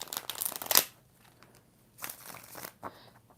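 Tarot cards shuffled by hand during a live reading: a close, crisp riffling burst at the start, then quieter scattered shuffles and a second softer riffle later.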